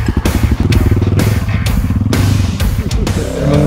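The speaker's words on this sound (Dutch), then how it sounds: "En dan moet die motor helemaal schuin, hè?" Motocross motorcycle ridden through deep Sahara sand during the Dakar Rally, its engine revving loud and close in choppy bursts with abrupt throttle cuts and gear changes, rising and falling over nearly four seconds.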